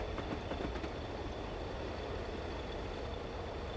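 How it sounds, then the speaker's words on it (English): A slow freight train rolls steadily along the line in a train simulator game on the Great Western or East Coast main line, a dense, constant rumble of wheels and wagons heard close with no voices over it. "this is going to be quite a slog, unfortunately, because it's just a slow freight train."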